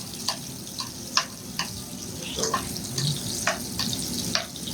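Quiet sizzling of meatballs frying in a pan, a soft steady hiss with scattered pops and light clinks.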